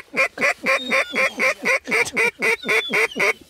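Ducks quacking during a hunt, about a dozen loud, evenly spaced quacks in a steady rhythm, close and clear with no talk over them.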